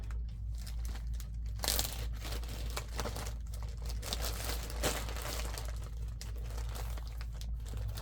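Soft crinkling and rustling of a plastic packet as something is tugged out, close up and intermittent over a low background hum.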